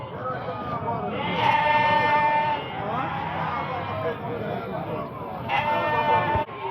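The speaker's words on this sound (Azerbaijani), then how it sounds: "Kəskiyə gedən qoyunlar." Several sheep bleat at the Barda livestock market, with repeated overlapping calls close by in two clear bursts. People talk among the flock in the background.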